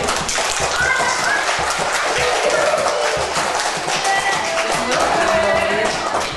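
Children and adults applaud at Kindergarten No. 4 in Lubin during a visit by Zagłębie Lubin handball players, a dense, steady clatter of many small hands with bursts of children's voices mixed in.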